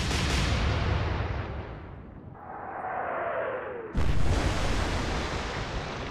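Battleship main guns fire in the Atlantic Fleet naval game, a heavy booming blast at the start and another sudden loud report near the end, with rumbling decay between.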